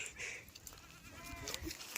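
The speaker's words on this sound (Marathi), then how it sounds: "हे काय किती बकरा आहे" Goat bleating, a large buck, at a goat handover on a farm where pregnant does are delivered. A brief bleat is heard near the middle over low background noise, ending in a louder burst.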